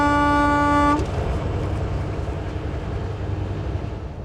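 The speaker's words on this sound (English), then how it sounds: "We'll be waiting a little while for this train to get its job done" A freight train at a road crossing sounds a loud horn blast for about a second, then a steady low rumble of cars rolling past continues, gradually easing.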